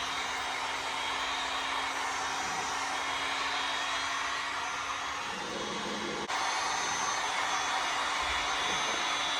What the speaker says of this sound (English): we got our handy dandy heat gun here. We're gonna plug her in, heat up the surface.